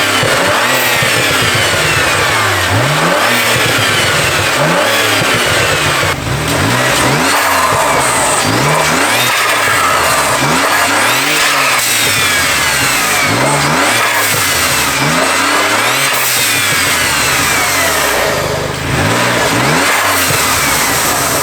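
A 2009 BMW E90 335i with the twin-turbo N54 engine, still on its stock charge pipe, blow-off valve and intake, revs repeatedly, loud and close, in rising and falling pulls over a steady idle.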